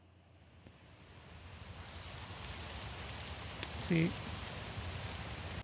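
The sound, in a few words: wind blowing on a meadow sound effect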